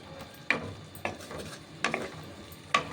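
Gravy for cauliflower dal cooks down in a pan with a splash of water, a soft steady sizzle broken by four sharp scraping stirs of a spatula, close and moderately loud with no talking.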